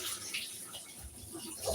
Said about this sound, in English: Let me just wash these banana.